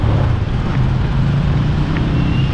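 Road traffic rumbles steadily and loudly nearby as a continuous low engine drone, with no voices over it.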